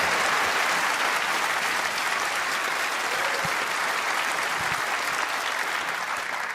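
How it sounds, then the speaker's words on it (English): A snooker crowd at the UK Championship final breaks into sustained, loud applause, steady clapping filling the whole stretch without pause. "He'll get some cheer if he hits it this time."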